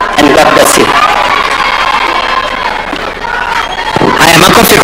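A crowd at a Youth International Day event cheers and claps for the President, a loud, roaring mass of voices and hands that dips slightly midway and swells again at the end.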